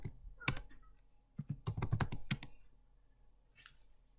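Sharp, irregular clicks of a computer keyboard as a Linux update command is typed, in two short bursts with a pause, close and fairly loud with no talking.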